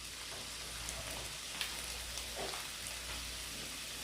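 Diced onion sizzles as it drops into a hot frying pan at a pop-up camper, giving a steady soft crackle and hiss that runs evenly throughout, fairly quiet and with no talk.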